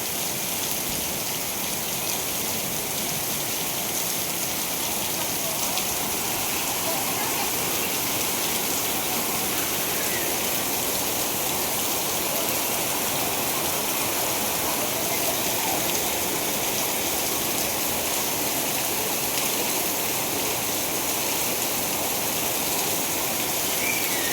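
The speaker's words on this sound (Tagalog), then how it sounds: "Grabe lakas ng ulan, guys. Sobrang lakas." A steady downpour roars without pause, thick rushing hiss of rain hammering nearby surfaces at a constant, loud level.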